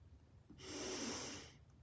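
One slow, audible breath during a hip stretching routine, a soft airy exhale swelling and fading over about a second against a quiet background.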